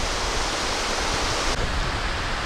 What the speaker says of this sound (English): So this is a nice waterfall, and a little one off to the side there.